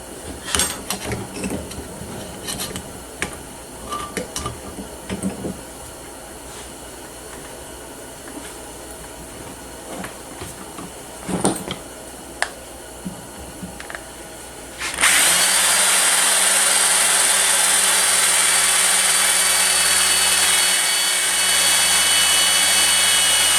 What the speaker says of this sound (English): I'm going to clamp this down a little bit and drill that hole